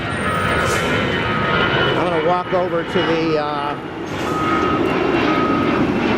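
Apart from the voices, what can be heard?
airplane flying overhead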